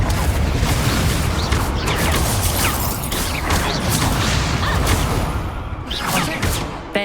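An Incendio fire spell is cast in Hogwarts Legacy amid dense, loud combat noise, with a sustained roaring, crackling wash and whooshing bursts that continue without pause.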